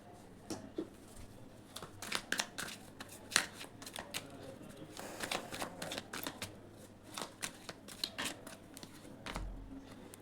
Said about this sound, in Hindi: चलिए तो अब हम कार्ड निकाल लेते हैं।